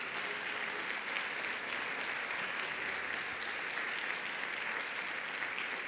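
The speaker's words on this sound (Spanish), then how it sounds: "Dale un fuerte aplauso al Rey." A church congregation at a Sunday service gives sustained, even applause, a soft, dense wash of clapping heard from a distance with no voices over it.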